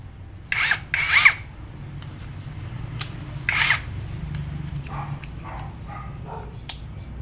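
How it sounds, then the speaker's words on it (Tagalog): Cordless drill driving a tech screw, two short bursts of whirring followed by a third, each lasting under half a second, with faint clicks and handling noises in between against a low background hum. "cordless na drill"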